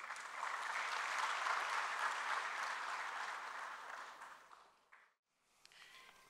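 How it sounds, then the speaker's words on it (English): An audience at a national seminar on economic reforms gives a warm round of applause, a full, sustained wash of clapping that fades out after about five seconds, followed by brief quiet and some faint shuffling. "So let's give a warm round of applause"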